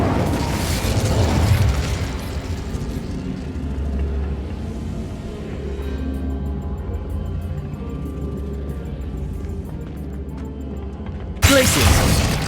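The Incendio fire spell cast in Hogwarts Legacy bursts with a loud whoosh and rumbling boom, then a second sharp blast at the end, over steady game ambience.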